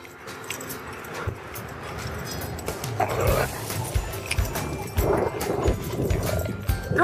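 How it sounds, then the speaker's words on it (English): Dogs play at home outside under a new pergola, with scuffling, growls and rough play noises close by, rising and falling in bursts over steady background noise. "I got doggies that are playing."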